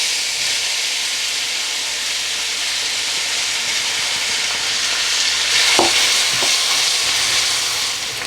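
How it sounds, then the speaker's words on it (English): Onions frying in oil, a constant close sizzle with occasional stirring clatters. "I'm just going to go in with the onions and fry them until they're lightly golden brown in colour"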